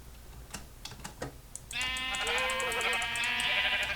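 Quiet clicking taps give way to a loud, wavering sheep bleat that carries on steadily with a buzzy, synthetic edge.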